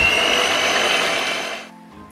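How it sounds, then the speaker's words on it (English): A kitchen blender whips egg whites for a mini tiramisu, a steady loud whirring buzz that runs for under two seconds and then cuts off abruptly. "now blending the egg whites"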